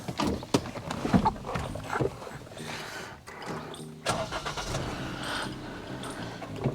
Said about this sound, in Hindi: let's start the engine